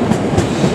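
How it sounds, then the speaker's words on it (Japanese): A train rumbles steadily past close by at the exit of the old Ikoma Tunnel on the Nara side, with continuous wheel and carriage noise filling the moment and no talking. "今ね電車がちょうど来てますけど"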